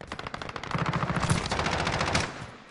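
Sustained machine gun fire in a free-for-all first-person shooter match, a rapid, loud, evenly spaced stream of shots that swells in the middle and then fades off, with no talk.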